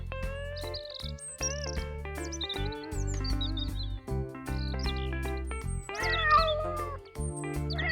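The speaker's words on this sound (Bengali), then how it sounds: "এ তো মনে হচ্ছে বেশ কয়েকটা বেড়াল" Several cats meow inside a room, a dense chorus of overlapping, pitched cries and whines, loud and close, continuing without pause; the strongly harmonic, tonal quality suggests a cartoon-style or voiced rendering.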